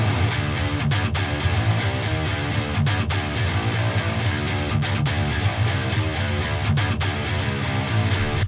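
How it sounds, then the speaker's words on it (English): Aggressive rock guitar riff from the mix, doubled left and right of the main riff, playing loud and steady throughout with a dense rhythmic chug and no voices. "down in guitar world, the riff is really just a left right of the main riff"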